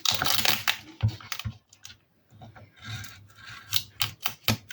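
Scissors or a craft knife trimming along the edge of a handmade Advent calendar structure, with a run of close, crisp snipping and rasping strokes in irregular bursts and short pauses between them.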